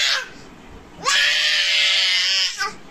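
Small children, still young enough to drink milk, screaming: a brief cry fades, then a loud, high, sustained wail holds for well over a second before breaking off. No talking is heard.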